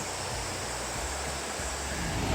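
The roar of Iguazu Falls in Argentina: a steady, dense rush of falling water with a low rumble beneath it.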